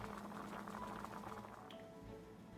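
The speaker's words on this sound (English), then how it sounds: "transfer this into a restrainer to get rid of the water" Cooked potatoes and their hot water pour into a strainer, giving a close, steady liquid rush and splash that holds at even loudness for a few seconds before easing slightly near the end.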